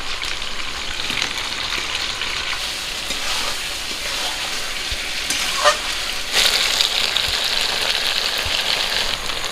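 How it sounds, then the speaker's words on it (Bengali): Chicken and potatoes frying in a pan for a restaurant-style chicken gravy, with a loud, continuous sizzle and repeated scraping stirs that grow more vigorous near the end, heard close up without speech. "চিকেনটা আমার কষানো হয়ে গেছে। এবার আমি আলুগুলো দিয়ে আবারও ভালো করে কষে নেব।"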